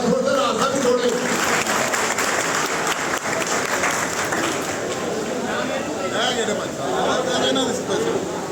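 A crowd at a pigeon-flying tournament prize ceremony claps continuously at close range, the loud dense applause running throughout with chatter and voices mixed in.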